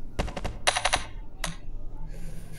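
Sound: gunshots in People Playground video game

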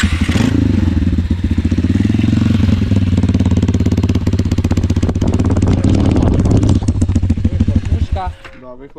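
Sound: IZh Jupiter 4 motorcycle engine starting

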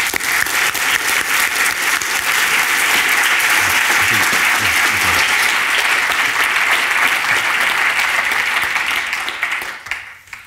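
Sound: audience applause welcoming a speaker on stage

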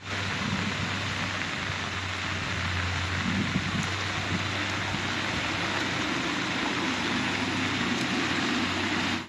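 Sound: heavy tropical downpour rain

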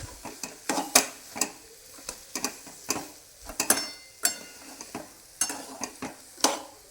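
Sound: stirring puran filling with cardamom and nutmeg

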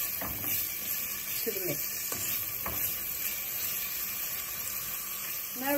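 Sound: onion and sweet pepper sautéing in pan

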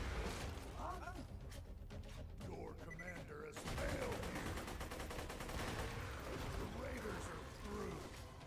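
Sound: gunfire shooting flowers in the video game Borderlands 2

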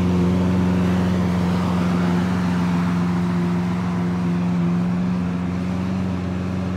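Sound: Lamborghini Aventador SV engine accelerating

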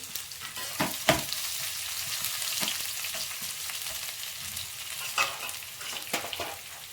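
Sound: mashed garlic frying in a pan

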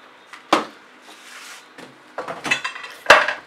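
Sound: bottle of paint knocked over

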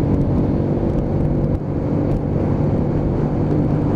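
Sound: Keeway K-Light motorcycle riding at speed

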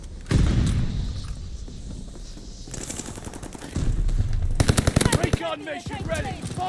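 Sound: gunfire from the video game Call of Duty: Vanguard

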